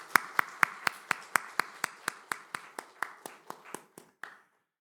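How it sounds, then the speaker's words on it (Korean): A congregation applauding a church choir after a hymn: about eighteen sharp, evenly spaced claps in a quick steady rhythm, fading slightly before stopping. "우리 에베네셀 성가대를 위하여 우리 격려하는 마음으로 박수를"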